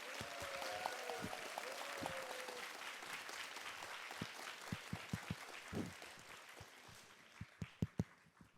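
A lecture audience gives a long, warm round of applause to welcome a philosopher and evolutionary scientist. The dense clapping is recorded softly and thins toward the end into scattered individual claps.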